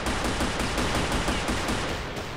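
Mauser M1896 pistol in triple-fire mode inside the shooter game Crossfire, a dense, continuous burst of rapid shots packed into a couple of seconds, loud and close with no pauses and no talk.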